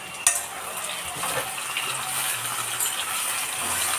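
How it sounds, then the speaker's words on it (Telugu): A utensil stirs bitter gourd and tomato curry in a frying pan, with a soft continuous sizzle, scraping strokes and a sharp clink of metal near the start. "మళ్ళీ ఒకసారి తిప్పుకోవాలి కదా."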